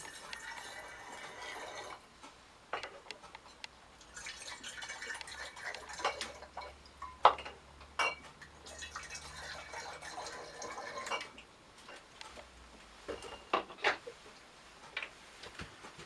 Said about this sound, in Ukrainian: наливаю невеличку кількість води в кожну пляшку.